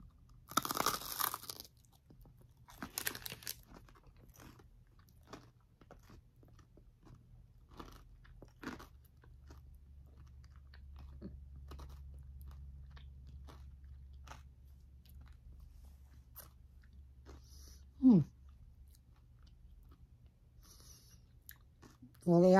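A loud crunchy bite into a Taco Bell chicken crispanada followed by quiet, steady chewing close to the mouth, with a few louder crunches and brief mouth sounds.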